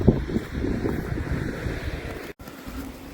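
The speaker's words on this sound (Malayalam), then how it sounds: "ഒരു കയ്യാണി കൂടെ വെള്ളം ഒഴുകുന്നുണ്ടോ?" A small stream flows through a forest beside a rural German village, a steady close rush of water mixed with wind buffeting the microphone, with one brief dropout near the end.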